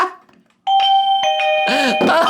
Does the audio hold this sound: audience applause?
no